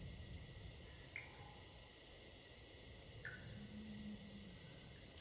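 Water drips in the video game The Long Dark, two faint, isolated drops a couple of seconds apart over a steady low hiss of wind.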